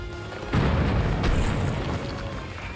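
A bomb explodes in the Hyrule Warriors video game with a single loud, deep boom that rumbles and slowly fades over a couple of seconds, heard alone.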